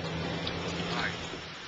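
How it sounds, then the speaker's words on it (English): Rain falling over a park in Trinidad, a continuous close hiss of drops with a faint low hum underneath, heard briefly and alone. "See, rain all over."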